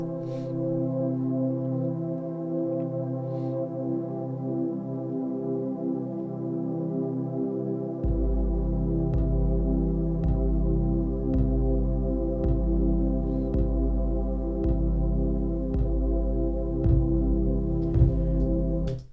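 A looped drum break kicks in halfway, with booming low kicks and crisp hits in a steady rhythm over sustained tonal chords.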